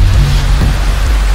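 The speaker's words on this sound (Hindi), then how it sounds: "देखिए बारिश की बूंदें भी शुरू हो गई।" Raindrops begin to fall outdoors near a temple, heard as a loud, dense wash of rain hiss with a deep low rumble underneath.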